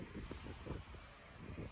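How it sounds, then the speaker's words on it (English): Steady low rumbling buffeting, like wind blowing across a microphone, continuous and fairly loud with no clear voices. "it's too windy out. And the audio is going to be all messed up"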